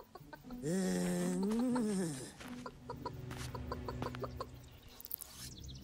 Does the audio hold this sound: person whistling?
no